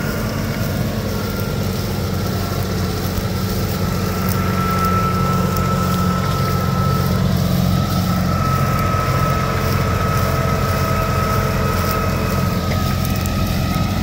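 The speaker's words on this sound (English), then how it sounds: "It's not even straining the tractor." A John Deere 8640 tractor pulls a seven-bottom International plow, its engine a steady, loud low drone with a sustained mid tone. It runs unstrained, close to idle, throughout with no talk.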